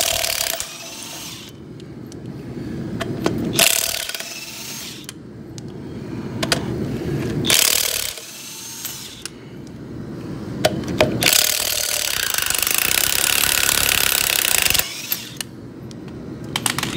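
A power tool runs in repeated loud bursts, spinning and rattling as it removes both tires from a vehicle, with short quieter gaps between the runs and a longer sustained burst near the end.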